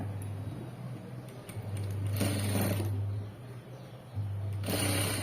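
A sewing machine stitches a blouse front, running in close, steady whirring bursts with brief stops between them.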